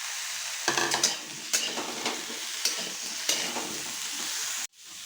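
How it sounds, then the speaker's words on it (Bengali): Vegetables and drumsticks sizzling in hot oil in a pan for Bengali shukto, with a spoon scraping and stirring in several distinct strokes over the continuous frying hiss, ending abruptly. "যেহেতু সজনে ডাঁটা একটু নরম তাই আমি একটু লাস্টের দিকে এটাকে ভাজতে দিচ্ছি"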